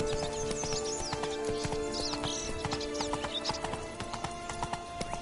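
Roach the horse gallops in The Witcher 3, a dense, rapid clip-clop of hooves running steadily throughout, with a whinny and faint ambient game sounds around it.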